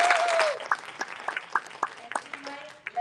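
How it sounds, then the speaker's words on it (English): An audience at a therapeutic-humor conference gives a round of applause, scattered claps rising and falling at moderate distance, with a voice speaking at the start. "Big round of applause for her."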